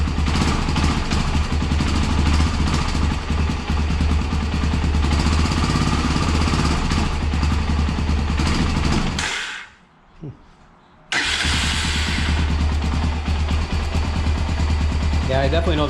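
Honda 300EX ATV engine running with rough, loud chugging and a brief rev, then cutting out into near silence for about two seconds before starting up again; people talk over it.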